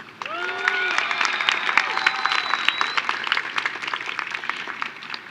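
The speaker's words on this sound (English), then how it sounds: "How about another cheer for Kenya?" Auditorium audience at a 2018 new student convocation breaking into applause and cheers for Kenya, a full round of clapping with scattered whoops, lively and sustained.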